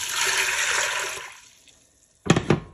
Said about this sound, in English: in the pot we're just going to add about 6 cups of water